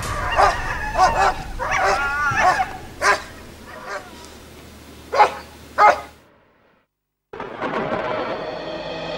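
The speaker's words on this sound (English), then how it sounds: "The dogs defiant." Sled dogs bark defiantly at a polar bear on Hudson Bay, a burst of sharp, overlapping barks and yips that fades into a brief silence before steady outdoor noise resumes.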